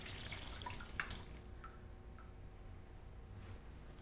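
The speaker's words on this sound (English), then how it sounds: "when a stream of water comes out of the low pressure bleed valve" Water streams out of the low-pressure bleed valve of a hydro-test water jacket cylinder test system, a faint, steady hiss and rush with a few small drips and ticks.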